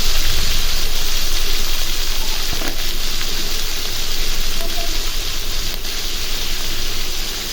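Teasel gourd frying in a pan with spices, onion and chilli, giving a loud, steady hiss and sizzle that fills the whole stretch with no break.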